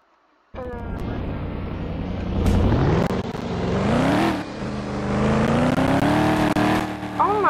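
A loud Dodge Charger engine in Roblox starts abruptly and revs up, its pitch climbing and falling in a couple of sweeps, close and powerful, with a few sharp clicks over the sustained roar.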